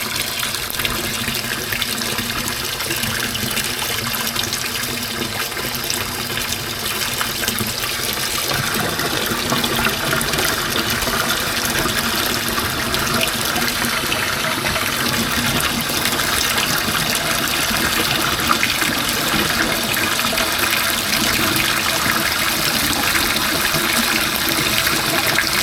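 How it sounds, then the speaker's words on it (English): Steady water running from a kitchen tap into a sink with a just-cleared drain, a continuous splashing gush with no voices. "We got our water running."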